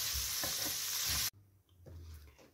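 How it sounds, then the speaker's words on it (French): Squid with parsley and garlic persillade frying in a pan, a loud steady sizzle with stirring scrapes that cuts off abruptly halfway, followed by quieter pan clatter and soft sizzling. "Et là, vous allez finir la cuisson des encornets"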